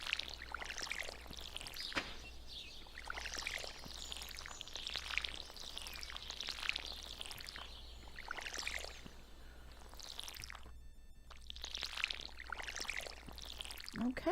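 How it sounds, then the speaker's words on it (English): Watering can pouring over crops in the Stardew Valley game on a forest farm, a series of soft splashing water bursts repeating every second or two, steady and moderately loud with no talking. "we're going to water our plants here"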